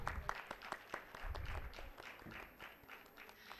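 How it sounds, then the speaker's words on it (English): Faint audience applause at the ICAICCIT 2025 inaugural ceremony, a conference hosted by MRIIRS, with scattered claps spread over a few seconds in a large hall. "A huge round of applause for the sir."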